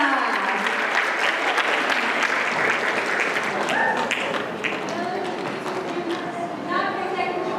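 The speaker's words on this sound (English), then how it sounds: "let's give our contestants and our eligible bachelor a round of applause" A convention audience at an all-ages dating game panel applauds the contestants and bachelor, a loud sustained wash of clapping that gradually thins toward the end, with some voices mixed in.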